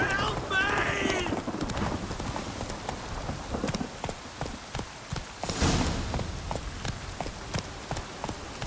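Hooves of Roach, a horse galloping in The Witcher 3, beat out a steady clip-clop rhythm, fairly close and loud at first and then a little quieter, with scattered game noise mixed in.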